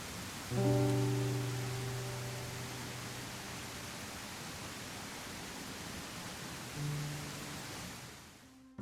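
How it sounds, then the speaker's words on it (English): Heavy rain effect from the indie video game Nectar, a dense, steady hiss of downpour running the whole time, with low tonal music notes swelling near the start and again toward the end. "It's busy, it feels like a heavy rain, but you can also still visually see everything pretty easily."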